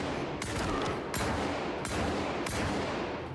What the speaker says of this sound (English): Missed the shotgun point blank.